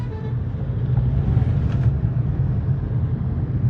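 A Mahindra vehicle drives along a road and overtakes, a steady low engine and road rumble heard from inside, moderately loud with no talk.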